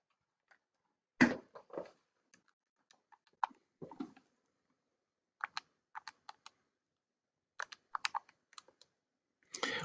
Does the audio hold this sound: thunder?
no